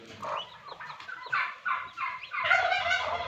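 Newly hatched white turkey chicks and local chicken chicks peep in a series of high, rising calls, close and fairly loud, several chirps following one another quickly with no talk.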